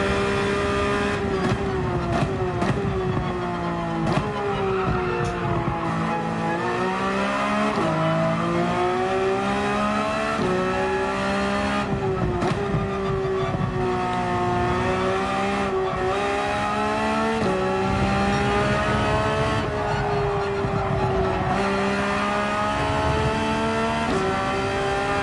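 A race car from Gran Turismo 7 laps Laguna Seca, its engine droning steadily loud through the whole run, with pitch rising and dropping through gear changes and occasional tire squeal in corners.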